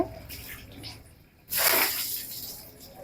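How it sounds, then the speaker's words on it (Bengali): Water gushes from a tap for a child's bath, starting abruptly partway through as a loud, steady rush after a quieter, low-level background. "নিজে আবার পানি ছেড়ে দিচ্ছে"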